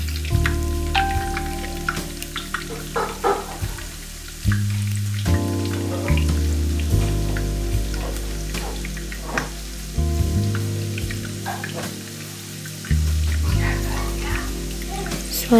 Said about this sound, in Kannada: ಆನಿಯನ್ನ ಕೂಡ ಅಷ್ಟೇ ಬ್ರೌನ್ ಆಗೋಗಂಟ ಫ್ರೈ ಮಾಡ್ಕೋಬೇಕು.